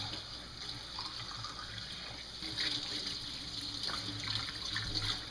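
Water runs steadily over a freshly cleaned duck as it is rinsed out in a sink, making a continuous close splashing trickle with no talking.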